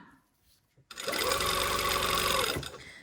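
A sewing machine stitches in an invisible zipper, running loud and steady for about a second and a half after a quiet start, then slowing and stopping.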